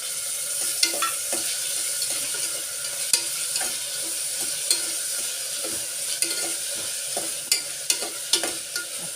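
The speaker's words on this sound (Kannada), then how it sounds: "ಈಗ ಟೊಮೊಟೊವನ್ನು ಸೇರಿಸ್ಕೊತೀನಿ" Tomatoes sizzling in a mix of ghee and oil, a close, steady frying hiss broken by repeated sharp clicks and scrapes of stirring, with no voices.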